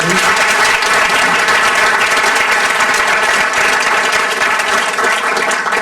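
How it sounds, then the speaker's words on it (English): Sustained audience applause at a school board of education meeting, loud and dense clapping continuing steadily throughout without a break. "let's give a round of applause for her"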